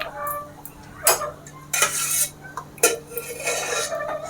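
A metal spoon clanks and scrapes against a pan while spices are stirred for a dal tadka tempering, with several sharp knocks and some scraping, close by and without speech.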